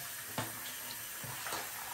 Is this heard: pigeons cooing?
no